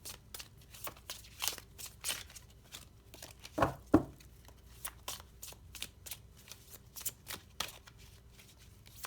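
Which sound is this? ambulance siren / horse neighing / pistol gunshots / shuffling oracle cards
shuffling oracle cards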